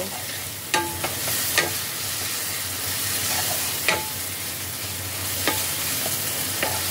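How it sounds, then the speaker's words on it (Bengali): A spatula scrapes and stirs paneer bhurji with spices and sugar in a frying pan, soft sizzling underneath and a few sharp clinks against the pan spaced every second or so, with no talking. "এই সমস্ত কিছু দিয়ে আবারও একবার ভালোভাবে মিশিয়ে নেব।"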